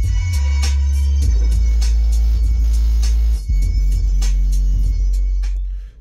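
Music plays loudly through the speakers of a Mahindra XUV300 with the bass turned right down, giving a thin, light low end, beats and a steady tone running continuously before fading at the close.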